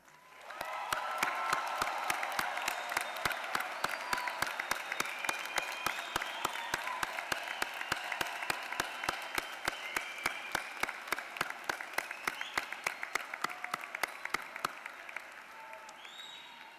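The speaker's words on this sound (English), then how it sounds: "resounding applause." Graduates at a UCF spring commencement give long, sustained applause in a large hall, a dense roar of clapping punctuated by sharp individual claps and scattered cheers that fades at the end.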